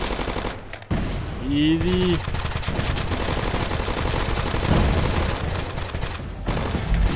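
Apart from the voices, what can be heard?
gunfire in Roblox Zombie Uprising video game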